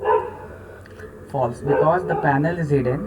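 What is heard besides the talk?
dog barking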